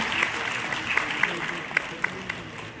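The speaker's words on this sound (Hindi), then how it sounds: "तालियां बजती रहनी चाहिए निरंतर" A crowd applauds steadily, dense clapping filling the space with a few sharper individual claps standing out, while a voice speaks over it.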